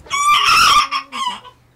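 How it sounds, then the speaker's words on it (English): An Araucana hen gives a short burst of close, loud clucking, a couple of quick calls in under two seconds, with no talking. "This is my Araucana."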